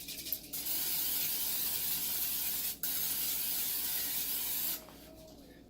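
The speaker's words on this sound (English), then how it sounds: "I have some olive oil here in a can, and I just spray it." Olive oil sprays from an aerosol can in two long, steady hissing bursts separated by a brief pause, close and fairly loud, ending in quiet.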